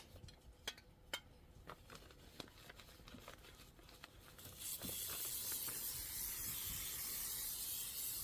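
A few scattered clicks and taps, then a steady hissing spray from a KK 100 spray adhesive can that runs on continuously, close by.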